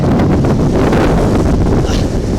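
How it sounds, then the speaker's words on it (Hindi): Strong wind during Cyclone Biparjoy on the Gujarat coast roars continuously and loudly, buffeting the microphone in a dense, unbroken rush with possible rain mixed in. No voices are heard. "तेज हवा चल रही है।"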